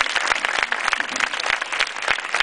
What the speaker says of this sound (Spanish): os pido, si os parece, para empezar, un aplauso